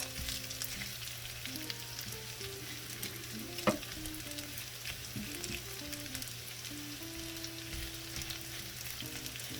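Veggie pancake batter frying in a pan over medium heat, giving a steady, even sizzle throughout with a faint background hum and one brief clink partway through.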